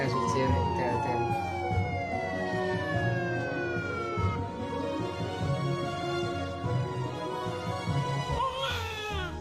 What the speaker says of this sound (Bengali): অ্যাম্বুলেন্স চলে আসছে তাড়াতাড়ি